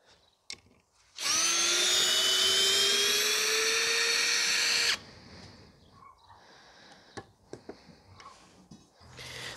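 A loud Parkside Performance cordless drill driver whirs steadily for about four seconds unscrewing a screw, its motor pitch rising slightly, then stops, followed by faint clicks and handling noises.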